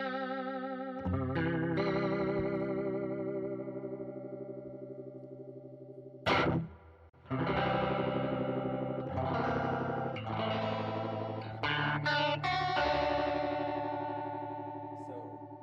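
Electric guitar through a Digitech TR-7 stereo modulation pedal, with sustained chords wobbling in a heavy, warbling pitch and chorus effect. A short break of noise interrupts the playing before more strummed and picked passages.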